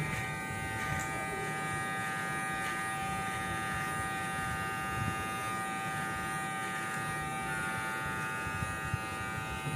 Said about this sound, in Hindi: आज पहली बार बिना शीशा देखे मैं अपनी ट्रिमिंग कर रहा हूँ